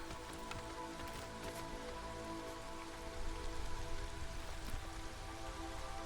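Steady drizzle falls as ambient weather in the city-building game Against the Storm, a constant soft hiss of rain on surfaces that grows a little louder partway through.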